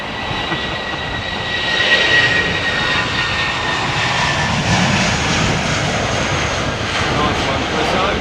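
A jet airliner taxiing at London Heathrow Airport gives a loud, steady engine roar with a whining tone that swells slightly midway, heard from nearby outdoors.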